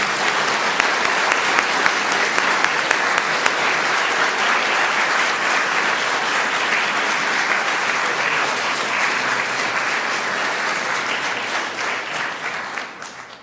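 A congregation at a Yom Kippur morning service applauds the choir in long, dense, loud clapping from many hands that holds steady before thinning and fading near the end.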